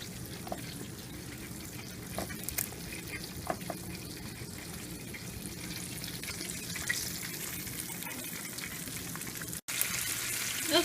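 Chicken thighs frying in a pan, a soft steady sizzle with occasional pops and crackles, fairly faint and continuous, with a brief dropout near the end.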